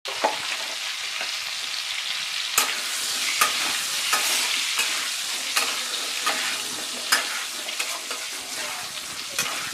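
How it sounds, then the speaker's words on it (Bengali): Pointed gourd pieces fry in oil with turmeric and salt, making a continuous close sizzle. Sharp scraping taps from a spatula stirring the pan recur throughout. "এরপর পটলগুলো ভাজার সময় পটলের ওপরে দিয়ে দিলাম আমি সামান্য হলুদ, আর সাথে দিয়ে দেব অল্প একটু লবণ।"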